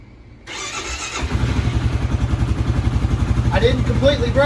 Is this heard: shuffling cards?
no